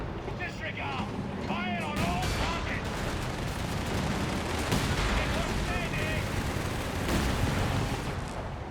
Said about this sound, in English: Rockets are coming in